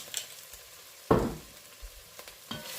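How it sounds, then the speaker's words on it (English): Three spoons of tomato paste toasting in a pan for ham hock baked beans, with one sharp sizzling burst as it hits the heat, then quiet stirring scrapes and a couple of smaller sizzles, no talking. "just let's toast that paste off just a little bit, give it a quick stir through"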